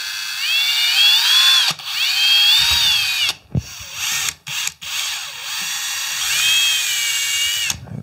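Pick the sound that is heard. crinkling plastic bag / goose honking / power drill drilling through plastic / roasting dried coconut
power drill drilling through plastic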